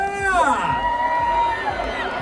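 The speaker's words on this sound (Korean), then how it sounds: "다시 한번 큰 박수와 예쁜 함성 5초가 발사!" A festival crowd at an outdoor fusion gugak stage cheers and whoops with rising and falling shouts, close and loud, after a jazz-style Korean traditional music set.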